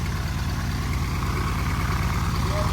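A 1948 Cessna 170 aircraft engine, started after sitting, runs close and loud with a steady rapid throbbing beat, a continuous idle-like drone with no pauses.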